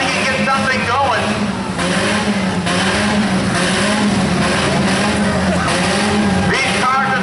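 Demolition derby cars rev and grind in an arena, engines roaring steadily loud with rising revs and scattered clatter, while an announcer talks over the continuous noise.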